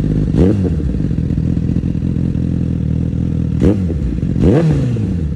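A 2023 Honda CBR1000RR sportbike engine roars loudly and steadily close by, with a few sharp revs swelling out of the continuous rumble; no talking.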